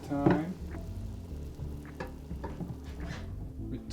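Buckwheat groats fry in a pan, giving a steady close sizzle with light stirring scrapes and small popping crackles throughout.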